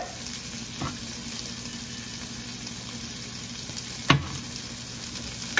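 Ligo and Grace brand canned mackerel sautéing in a pan, a steady low sizzle with a couple of sharp utensil knocks against the pan, close and even, with no talk.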